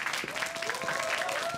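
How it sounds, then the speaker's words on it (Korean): Applause breaks out in a Korean drama scene, a steady patter of many hands at moderate level with a voice and a faint tone running over it. "저 박수 받을 일 한 적 없는데요."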